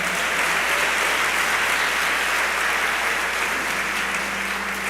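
A church congregation applauds for Jesus, a thick, even wash of many hands clapping, sustained and loud with no break.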